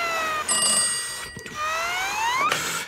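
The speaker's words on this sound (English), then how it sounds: "That's the emergency news phone!" An emergency news phone rings in a video game, two bursts of shrill, rapid bell-like trilling with sweeping tonal overtones, loud and close, separated by a brief pause.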